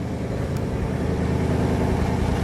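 A 1959 Dodge Custom Royal Lancer Super D500 convertible engine idles at a slightly high idle, a steady, even low rumble held close and unbroken throughout.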